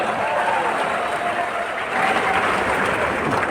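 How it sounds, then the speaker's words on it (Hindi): Loud, steady applause from an audience at a motivational speaking event in a Patna hall, sustained clapping with crowd murmur and cheering throughout, swelling slightly near the end. "जोरदार तालियां पर सूर्य कुमार यादव"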